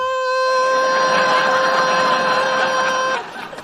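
A sustained high-pitched electronic tone rings steadily for about three seconds, loud and even, then cuts off abruptly and leaves faint background noise.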